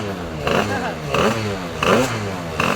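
A motorcycle engine revs in repeated bursts during a technical noise-level check at a race, loud and close, with roughly four rising throttle blips over a steady idle.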